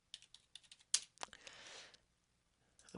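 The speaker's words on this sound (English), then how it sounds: "we can just type them in up here" Brisk typing on a computer keyboard, loud clustered keystrokes then a short run of softer rattling keys, close and alone with no voice, then a brief tap near the end.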